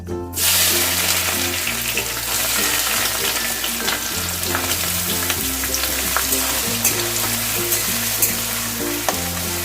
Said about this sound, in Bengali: পেঁয়াজটা একটু ভাজা হবে